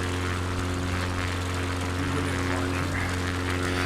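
Propeller bush plane cruising in Microsoft Flight Simulator 2020 over Alaska, a steady, continuous engine drone with strong low harmonic hum, unchanging and close throughout, with no talk.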